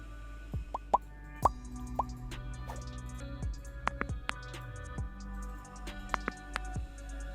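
A spoon clinks and taps against a cup while mixing a cinnamon, lemon and honey drink, giving light irregular ticks and plops over a quiet background.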